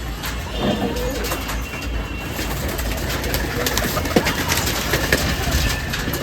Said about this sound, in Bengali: সুস্থ কবুতর দেখতে পাচ্ছেন ডাকাডাকি করছে সুন্দর সুন্দর করে